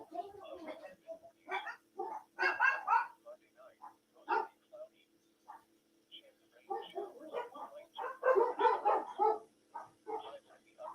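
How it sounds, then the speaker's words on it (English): Dogs bark and yip repeatedly indoors at moderate volume, mixed in with a weather forecaster's ongoing talk during a live home broadcast under a tornado watch. "Sorry for my dogs, everybody."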